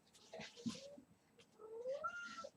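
A pet cat gives two short, soft, strained meows with a pause between them, quiet and close in a still indoor room.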